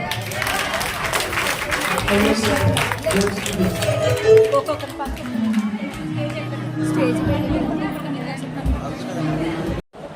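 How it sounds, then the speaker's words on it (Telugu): A church congregation applauds after a prayer of deliverance, with steady mixed clapping and crowd chatter filling the room, then fading near the end. "చప్పట్లు కొడదాం."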